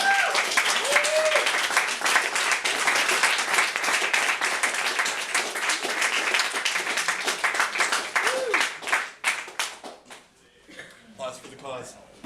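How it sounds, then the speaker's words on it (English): Dense applause from an audience at a poetry reading, sustained clapping that breaks into scattered claps and fades, with voices and talk heard over and after it. "Applause for the cause."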